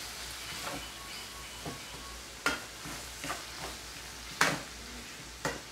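A spoon mixes salt and black pepper through chicken in a pan for Chinese fried rice, producing quiet, irregular scrapes and clanks spaced a second or so apart over faint frying.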